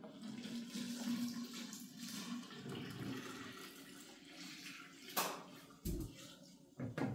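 Water from a container is poured into a pitcher for peach lemonade, a steady splashing stream in a quiet kitchen with a few sharp clinks and knocks near the end.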